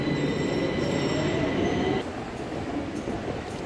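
A metro train runs along underground rails, a loud steady rumble with high squealing wheel tones that cut off midway, leaving a lower rolling roar.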